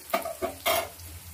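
Carrots stirred and fried in a pan for fried rice, giving three short bursts of scraping and sizzling at an even pace, close and fairly quiet, with a low hum between the strokes.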